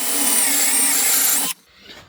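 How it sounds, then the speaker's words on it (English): A Forstner bit bores a hole in wood while bowl-turning mandrels are made, giving a loud, steady whirring grind that stops abruptly after about a second and a half, leaving quiet room tone. "Just going to drill a hole using the Forstner bit that I'm going to be using"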